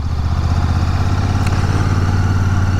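A Royal Enfield Classic 650 motorcycle engine runs close and loud with a steady, even throb, holding constant throughout.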